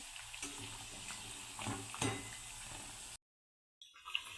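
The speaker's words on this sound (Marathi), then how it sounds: "एक बाजू आपली व्यवस्थित तळल्या गेलेली आहे मी आता इथे याला पलटी करून घेते" Sabudana vada deep-frying in very hot oil give a soft, constant bubbling sizzle with a small clink as one is flipped, then a brief silence before the frying resumes.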